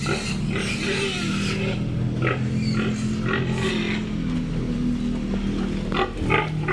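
A pig oinking and grunting on a rural property, repeated low grunts over a steady background hum, fairly close, with no clear talk.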